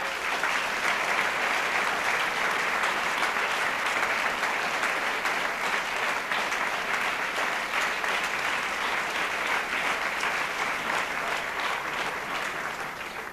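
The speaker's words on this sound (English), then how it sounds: "I think he deserves a round of applause." Sustained audience applause filling the room at a steady, dense level for the whole stretch, tapering only slightly at the end, with no talk over it.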